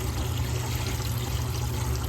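Water flushes through a Rinnai tankless water heater to rinse out cleaning chemical after a blocked heat exchanger was cleaned. It is a loud, continuous, steady rushing flow with a low rumble underneath.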